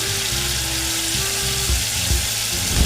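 Tomato paste hits hot oil in a pan and sizzles in a loud, steady hiss, with a low hum running underneath and a few stirring bumps near the end.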